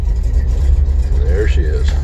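A 1979 Toyota FJ40 engine rumbles loud and low just after a cold start with the choke pulled out. The steady throb runs under a brief spoken voice.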